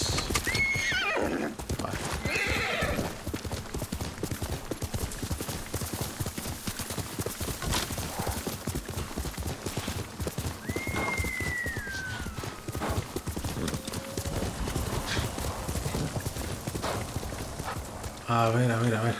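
Horse in the samurai game Ghost of Tsushima, hooves clip-clopping steadily throughout with a few whinnies, mixed with game music and ambience while someone talks over it.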